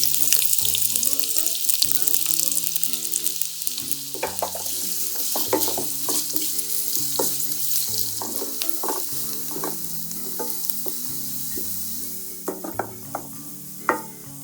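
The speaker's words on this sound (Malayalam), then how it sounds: "ഇനി നമുക്ക് അതിലേക്ക് സവാള ഇട്ട് കൊടുക്കാം" Onions fry in hot oil, giving a dense, continuous sizzle close by, with scraping stirs and clinks of a spoon against the pan scattered throughout and a sharper knock near the end.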